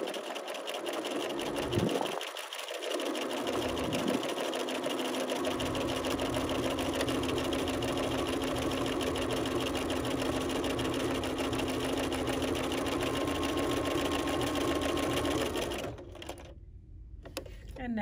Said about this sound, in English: I'm going to lower my presser foot down here, and I'm just going to take a stitch.